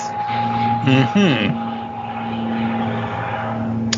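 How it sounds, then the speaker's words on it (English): Propeller airplane passing overhead as a steady, moderately loud drone with a brief swelling pass, a voice speaking over it. "Sorry, that would be a plane."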